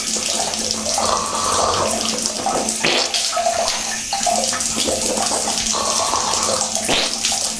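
A tap runs water steadily during ablution, with a close, constant rush and splashes as the hands scoop and spill water. No voices are heard.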